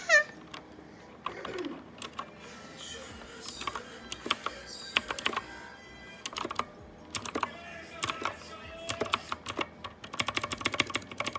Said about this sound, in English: every time you push down a key, it makes a click sound